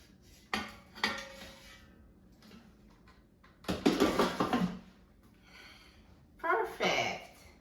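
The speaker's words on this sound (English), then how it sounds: "Now let me take it out of the air fryer." An air fryer basket holding frozen asparagus is pulled out and handled, with a few scattered metallic clatters and rattles, one longer scraping burst midway and another near the end.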